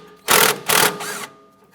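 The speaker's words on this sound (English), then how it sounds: "I'm going to use a 17mm socket, and we're going to remove our nut on the bottom of our strut bolt here." A power tool drives a 17mm socket on the nut at the bottom of a strut bolt on a 2004-2008 Acura TL, sounding as two loud, close whirring bursts and then a fainter third spin, with no talk.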